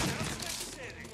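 Gunfire in the Mafia video game, a brief loud shot burst with a quick fading tail, heard alone without talk.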